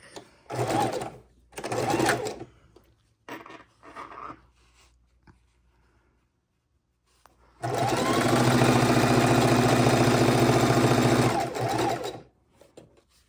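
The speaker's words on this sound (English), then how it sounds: "So we put that piece on, and let's sew that on." A sewing machine stitches quilt block fabric for a scrappy log cabin block, with two short bursts and a few brief stitches, then a long steady run of rapid stitching near the microphone.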